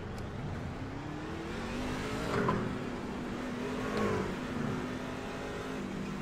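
Race car engine in the iRacing sim at Auto Club, a continuous mid-level drone that swells briefly twice as it revs, no talking over it.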